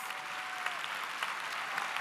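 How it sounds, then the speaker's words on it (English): A crowd applauds at a high school commencement ceremony for Bethesda-Chevy Chase High School, a steady, dense wash of clapping from many hands heard alone and filling the hall without a break. "Let's give them a round of applause."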